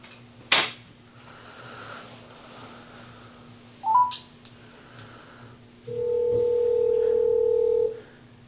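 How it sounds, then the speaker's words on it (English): A telephone's outgoing call tone sounds from a handset speaker as a steady, clear two-second ringback burst, preceded by a sharp click and a short chirp over a faint background hum, with no voices. "Let me try to call Gunther one more time here."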